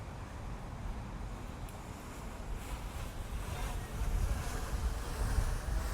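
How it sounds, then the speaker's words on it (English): Steady wind rushes and buffets a drone's microphone high above Mornington Crescent, London, swelling louder toward the end with no voices. "That's a bit windy actually."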